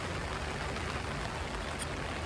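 Rain falls steadily on a day of rafting on the Tully River near Cairns, a soft, even hiss of drops that continues throughout with no talking.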